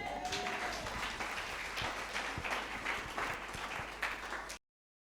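A church congregation at an all-night triumph service applauds to acclaim the Lord, a sustained dense wash of many hands clapping in a large room, steady and full, before cutting off abruptly.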